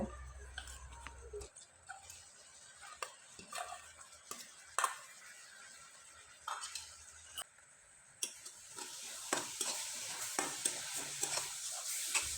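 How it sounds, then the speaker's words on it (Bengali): A jaggery and grated coconut filling for pitha is stirred dry in a pan: soft intermittent scrapes and taps over a faint, quiet sizzle, near and irregular, without voices. "নারকেল কোরানোটা দিয়ে খুব ভালোভাবে নেড়ে চেড়ে এই পুরটা একবারে শুকনো করে তৈরি করে নেব"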